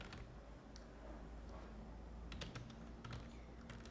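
Python code being typed on a computer keyboard, with quick irregular key clicks and a few sharper taps, close but quiet over a faint steady hum.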